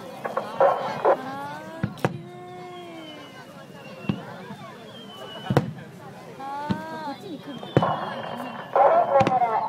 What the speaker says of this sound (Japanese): ただいまから打ち上げます花火は岡野建設提供のスターマインでございます